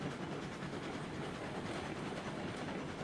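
A train rolls along the tracks in the railroad video game Railroads Online, with a continuous, dense rumble and clickety-clack of wheels on rails. The sound is steady and fills the whole moment, with no talking.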